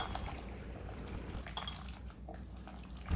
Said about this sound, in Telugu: ఇప్పుడు 1 కప్పు పెరుగు అయితే వేసుకోవాలి. బాగా మిక్స్ చేయాలి.